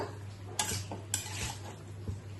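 Vegetables for a mixed vegetarian curry get stirred in a pan, with a few sharp metallic scrapes and clanks of a spoon over a faint sizzle, close by and with no talk.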